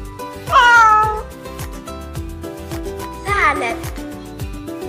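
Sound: cat meowing

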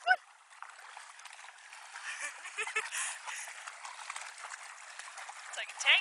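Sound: dog running and splashing through river water

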